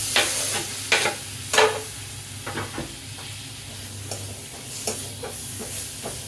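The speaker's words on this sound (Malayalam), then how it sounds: "ആ മുളകിൻ്റെ മല്ലിയുടെ ഒക്കെ ഒരു പച്ചമണം പോകുന്ന വരെ നന്നായിട്ട് വഴറ്റി" Chilli and coriander sautéing in a pan, a low steady sizzle broken by several sharp scraping stirs early on, then quieter frying with occasional light scrapes.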